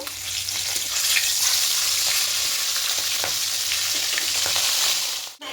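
Steady, loud sizzling of a fish head frying in hot oil, a dense crackle that continues without a break and cuts off sharply at the end.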